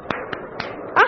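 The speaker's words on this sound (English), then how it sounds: "Clap." Three sharp hand claps spaced about a quarter second apart, moderately close, with a voice breaking in at the end.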